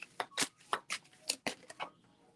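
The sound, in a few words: tarot cards being shuffled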